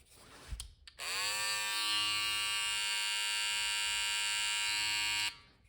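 A Babyliss Pro FX rose gold hair clipper fitted with a new FX708Z replacement head switches on after a brief handling knock and runs with a steady, even high-pitched buzz for about four seconds before shutting off, heard close and alone.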